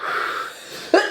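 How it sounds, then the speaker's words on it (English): A woman coughing, a soft breathy wheeze followed by two sharp, close coughs at the end. "let her stop coughing"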